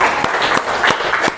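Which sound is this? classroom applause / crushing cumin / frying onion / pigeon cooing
classroom applause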